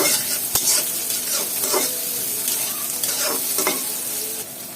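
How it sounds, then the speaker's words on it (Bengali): Loitta dried fish and onion frying in hot oil, stirred in the pan: a loud, close, continuous sizzle broken by a few sharp utensil scrapes and knocks, with no voices. "এই যে এখন দিয়ে দিব লইটা শুটকি পেঁয়াজ আর এই শুটকিটা এখন আমি তেলের মধ্যে একটু ভেজে নেব"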